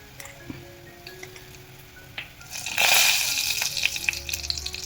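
Garlic and turmeric sauté in a pan, starting as a faint crackle with a few ticks. After a few seconds the hiss swells into a louder, bright sizzle that continues to the end, close by, with no voices.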